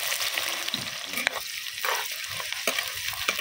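Chopped onion frying in hot oil with whole spices such as peppercorns, cardamom, cinnamon and bay leaf, giving a close, steady sizzle broken by scraping stir strokes and a few sharp clinks of a utensil against the pan.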